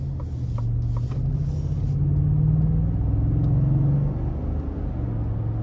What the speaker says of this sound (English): we'll just give it a little bit of throttle coming out of this corner while we're still in eco mode